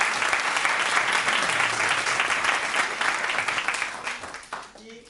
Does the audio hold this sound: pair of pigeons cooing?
no